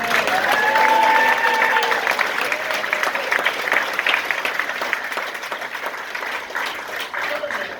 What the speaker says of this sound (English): let's give a big round of applause to the folks that are tuning in at home